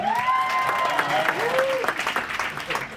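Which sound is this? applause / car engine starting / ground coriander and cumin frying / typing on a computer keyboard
applause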